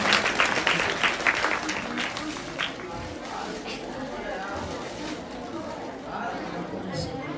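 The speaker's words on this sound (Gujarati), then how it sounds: "જોરદાર તાળી ભાઈ એમના માટે" Applause at a primary school function as a teacher receives a gift; a burst of crowd clapping at the start that soon gives way to murmuring chatter and background noise.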